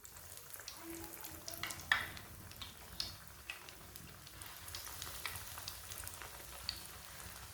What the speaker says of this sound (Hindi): ऑयल हमारा अच्छी तरह गर्म हो चुका है। अब इसमें टिक्कियाँ डालेंगे एक एक करके।